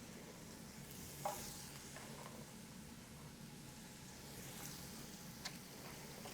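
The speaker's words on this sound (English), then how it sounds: "So now I'm going to toss my onions into this skillet." Onions tossed into a skillet for a stir fry give off a soft, steady sizzle, with faint stirring and scraping throughout.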